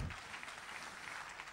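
Church congregation applauding, a steady wash of many hands clapping at moderate distance, continuous and dense without a clear beat, slightly distant and fairly quiet.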